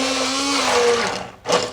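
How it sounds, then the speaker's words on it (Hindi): Kitchen blender whirring as it purées cooked apples for homemade jam, run in short pulses: a steady motor drone slowing and cutting off, then a brief second burst after a pause. "ये देखें मैं इसको हाथ रोक रोक के ब्लेंड कर रही हूँ।"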